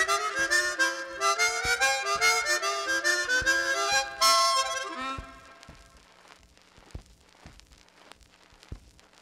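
A chromatic harmonica plays a quick run in sixths, two notes sounding together like a pair of instruments, bright and close for about five seconds before trailing off into faint noise and clicks.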